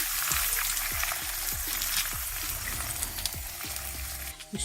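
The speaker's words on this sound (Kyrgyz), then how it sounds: "Жумурткабызды үстүнө куюп алабыз." Potatoes with beaten eggs poured over them sizzle in a frying pan, a steady close crackle running throughout, with repeated soft knocks and scrapes of a utensil.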